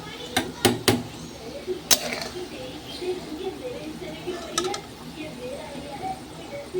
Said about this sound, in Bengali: এখন ভাজাগুলো আমি তুলে নিচ্ছি তেলটা ছেঁকে ছেঁকে তুলে নেবো